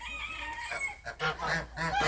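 Turkeys in a farmyard give short gobbling and clucking calls, a few close bursts in quick succession over faint background yard noise.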